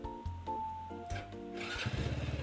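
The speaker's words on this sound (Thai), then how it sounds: "เรามาฟังเสียงท่อกันหน่อยดีกว่านะครับผม" A 2022 GPX POP110 motorcycle with about 9,000 km cranks briefly and catches, then settles into a quiet, even putter of exhaust, heard close up with no one talking.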